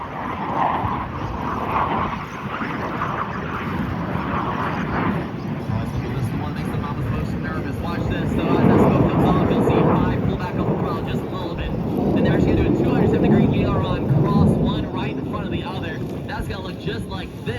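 Blue Angels jets fly the opposing minimum radius turn over the Gulf at Pensacola, a steady broad jet roar that swells twice, heard from a distance under a commentator's continuous talk and wind noise.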